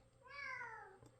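A single clear cat meow, rising then falling, close by and fairly soft, with no talking.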